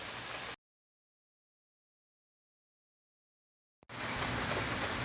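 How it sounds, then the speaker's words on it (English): Steady rain falls outdoors near a building, a dense even hiss that cuts out to silence for a few seconds before returning at full strength. "It's been raining pretty well steady the whole time."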